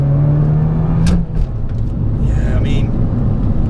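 Abarth 695 Biposto driving on a race track at Rockwood, a loud steady engine drone with a dipping tone partway through, heard from inside the car under a person talking.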